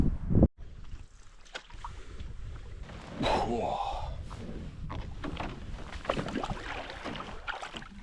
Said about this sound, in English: so I might start paddling back